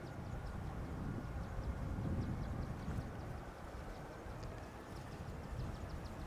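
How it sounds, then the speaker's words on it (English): A KLM Boeing 777-200ER jet arrives at Amsterdam Schiphol, its engines a steady, distant broadband roar that swells slightly and holds, with faint wind and outdoor ambience. "777-200 Errr arriving from Los Angeles, KLM B778X"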